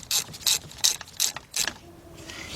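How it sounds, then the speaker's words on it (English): A ratchet on a 4-inch extension tightens a spark plug in a 2000 Mercury Cougar 2.5 engine, giving five quick, crisp bursts of clicking, close and clear, then a brief quiet. "Now our 4-inch extension. And remember, when you tighten it up, go till it stops."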